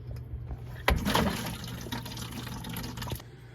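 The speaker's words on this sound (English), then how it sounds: "We got a bunch more water drained out of here." Water drains from a leaking polypropylene freshwater tank in a steady splashing, gushing flow, with a sharper burst early on and a few clunks, close and fairly loud.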